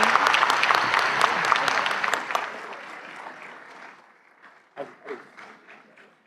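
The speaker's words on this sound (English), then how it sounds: "A big round of applause, everyone." A conference audience applauds, a loud, dense clapping wash that gradually fades. A few scattered claps and a voice follow as it dies away.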